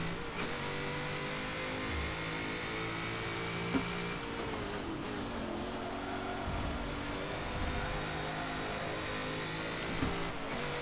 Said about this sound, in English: Hear his car, it's so close to him.